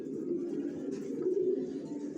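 Young racing pigeons coo steadily in a low, throaty, continuous murmur at moderate distance, the rolling calls overlapping without pause.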